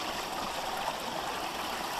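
Water runs steadily through a Sawyer Squeeze SP129 water filter right after a back flush, making a continuous close hiss and trickle with no voices.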